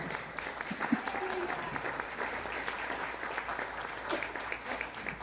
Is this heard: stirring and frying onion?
no